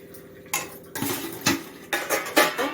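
Utensil scraping and clinking against a pan while carrot payasam is stirred with sugar, a series of bright metallic scrapes coming roughly every half second, close and moderately loud, with no talking.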